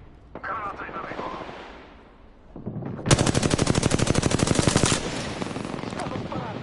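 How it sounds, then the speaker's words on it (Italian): Rapid automatic gunfire in a PS5 video game: one loud, sustained burst of evenly spaced shots lasting about two seconds, framed by quieter game sounds before and after. "Stanno sparando."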